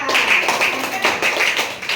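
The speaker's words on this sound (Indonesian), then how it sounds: "Tepuk tangan untuk kelompok mereka." A class of junior high students claps for a group of classmates in an Indonesian school classroom. The rhythmic, fairly loud applause lasts briefly.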